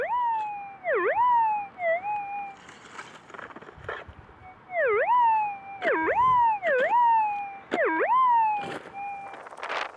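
Metal detector searching a goldfield, sweeping over a gold nugget: loud, sharp warbling tonal signals that rise and dip, arriving in repeated bursts over quiet threshold hum.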